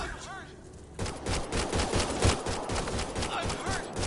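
Gunfire in the video game Mass Effect Andromeda, a rapid burst of dense shots breaking out after a brief spoken line and continuing loudly for several seconds.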